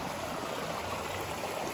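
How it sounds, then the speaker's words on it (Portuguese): A small stream flows steadily beside a trail near a rural restaurant, a continuous close rushing and babbling of water with no breaks and no voices. "Olha o barulhinho da água, que beleza."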